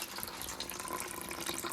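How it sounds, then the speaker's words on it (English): Water drains steadily from an old electric water heater tank, a faint, even trickling and gushing wash with no pauses. "draining the water heater, but this process is kind of slow"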